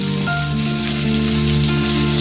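Chopped garlic, onion, green chilli and ginger dropped into hot oil, a steady close sizzle filling the short stretch, with a faint tonal hum underneath and no talk.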